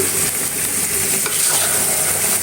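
Mango pickle for a sour, spicy and sweet achar being stirred in hot oil with melted sugar, giving a steady, close sizzle with soft scraping stirs throughout and no talking.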